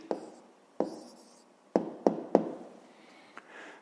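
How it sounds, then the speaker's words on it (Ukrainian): A pen writes an answer by hand on paper during a fifth-grade maths exercise: a few short scratching strokes and sharp taps, close and quiet, with brief gaps between marks. "зараз тоді записуємо відповідь, пишемо відповідь"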